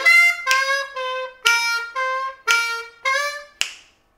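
A lick from a song played on an Eb harmonica: a string of about seven clear draw notes, some bent downward, each separated by a brief gap, ending in a short breathy note. Close and solo.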